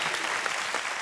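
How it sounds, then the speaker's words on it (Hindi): A studio audience at The Kapil Sharma Show comedy taping claps loudly in a brief, dense burst of applause. "जोरदार तालियां बाजी."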